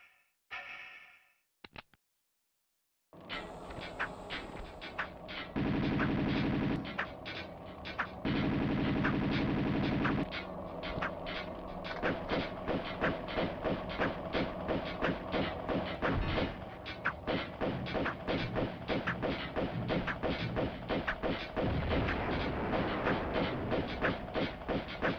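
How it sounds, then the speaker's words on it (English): A grenade launcher fires in Tomb Raider II on the Floating Islands level. A dense, steady run of loud rhythmic thuds and blasts follows a brief quiet opening and continues for most of the stretch. "Oh, I'm using the grenade launcher."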